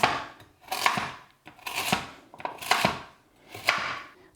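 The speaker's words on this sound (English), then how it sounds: "Then roughly chop your carrots." A knife roughly chops carrots on a board in four distinct bursts of crisp cutting, each a quick run of taps with short pauses between, heard close with no voices.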